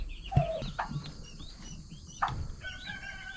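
Turkey poults and chickens in a coop give a few faint, short chirps and clucks, spaced apart over a low, steady background.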